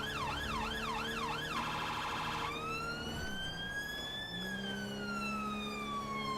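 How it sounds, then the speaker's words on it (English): An emergency response vehicle's siren wails loud and steady on a blue light run, then switches tones partway through from a rapid yelp to a slower rising and falling wail, over constant road and engine noise. "so change siren tones"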